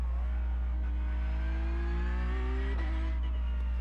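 A Porsche Cup race car engine in a racing video game holds a loud, steady high-revving drone, pitch climbing gradually before a sharp shift and then pulling up again.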